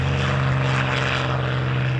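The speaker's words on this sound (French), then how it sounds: "le P-51 au décollage" A P-51 Mustang propeller fighter takes off at an air show, its piston engine roaring loud and steady with a strong low drone throughout, no voices over it.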